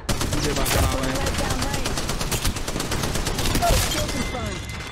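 Rapid automatic gunfire in the video game Apex Legends, a dense close burst of shots running through the whole clip with game voice lines mixed in.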